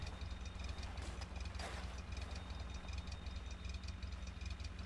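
A car engine idles steadily in the game The Long Drive, a continuous low mechanical rumble with faint rhythmic knocking, close and even throughout with no voices.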